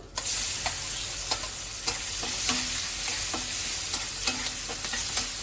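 Chopped onion frying in oil gives a dense, close, steady sizzle, with a spatula scraping the pan at regular intervals of roughly half a second to a second, no speech.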